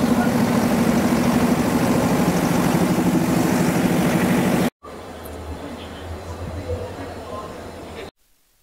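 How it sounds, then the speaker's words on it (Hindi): A diesel locomotive of the Darjeeling toy train idles with a steady low rumble, loud and continuous, then cuts to a quieter stretch where the engine hum carries on under faint background sound. "ये जो है कि डीजल का लोकोमोटिव है।"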